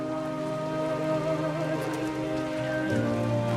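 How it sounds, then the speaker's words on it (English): Steady rain falls in the video game Everybody's Gone to the Rapture, a constant hiss of drops with low droning ambience beneath, with no voices. "Is the rain getting worse?"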